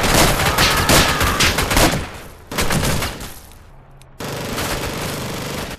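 Loud bursts of rapid MG42 machine-gun fire in a video game rattle in long volleys, broken by brief pauses, with more shooting resuming near the end.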